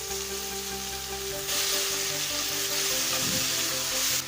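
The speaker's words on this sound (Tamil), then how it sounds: "இப்போ தக்காளி நல்லா வதங்கிடுச்சு" Tomato and salt sauté in a pan over onions for Tamil-style mint rice: a continuous close sizzle and hiss that swells louder partway through, with a few soft stirring scrapes and no voices.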